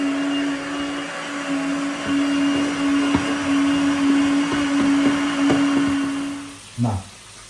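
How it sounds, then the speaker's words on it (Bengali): A blender runs its self-cleaning cycle with water inside: a loud, steady motor whir holds for about six and a half seconds, then winds down and stops, followed by a short knock. "এখানে রান্না করতে করতে আমি ব্লেন্ডারটা ক্লিন করে ফেলছি"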